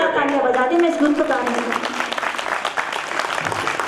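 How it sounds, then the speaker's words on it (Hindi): An audience at a Hindi poetry recital breaks into applause, clapping building and continuing for a few seconds after a voice briefly speaks at the start. "मैं चाहती हूँ एक बार आगे से लेकर तालियां बजा दें"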